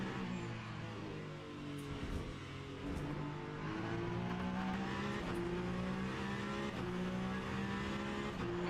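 A hypercar in the racing game Le Mans Ultimate holds a sustained engine note that climbs steadily through the rev range, with gear shifts and faint tyre noise, driving the Porsche Curves at Le Mans.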